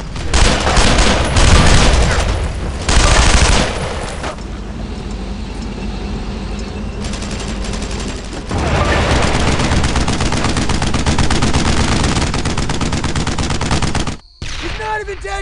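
Rapid, loud gunfire bursts and sustained automatic weapon fire in the World War II video game Brothers In Arms: Road To Hill 30, dense and continuous, with booming shots and background battle noise.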